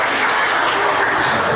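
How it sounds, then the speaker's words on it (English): A church congregation applauding during a Sunday evening service, dense loud clapping filling the whole moment with no voices over it. "Well, what an overwhelming applause."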